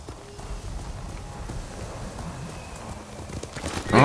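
Horse galloping in the video game Ghost of Tsushima, a steady run of hoofbeats under game ambience, with a louder burst right at the end.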